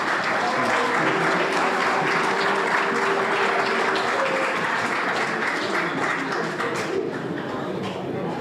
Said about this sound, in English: Let's give another round of applause for our mayor,